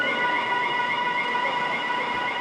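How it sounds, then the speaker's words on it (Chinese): An alarm sounds at a motorcycle road-test course when a tyre touches a painted line, a continuous, loud, unwavering electronic tone that holds steady with no voices. "警报声就会响起来"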